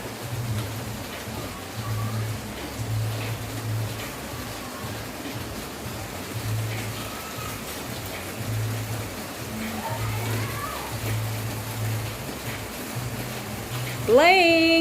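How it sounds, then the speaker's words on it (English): Rain falls outdoors as a toddler plays in it, making a steady hiss throughout. A voice can be heard faintly now and then over the rain. "Playing under the rain"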